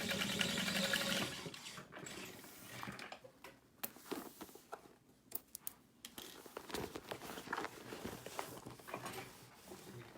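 A sewing machine stitches a backpack in short uneven bursts, up close and quiet, with crinkling fabric handling between runs.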